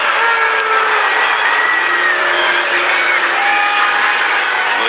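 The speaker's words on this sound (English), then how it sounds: "Well, the crowd don't like it." Stadium crowd at a Canterbury Bulldogs versus Newcastle Knights rugby league match, a loud sustained roar of jeering and whistling spread across the whole span, with no distinct talk over it.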